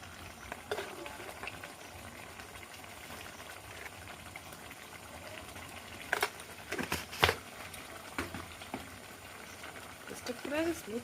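Duck meat simmering in a pot with salt added, a low bubbling and sizzling bed with occasional sharper clinks and stirring knocks, close and moderately quiet, with no talk over it.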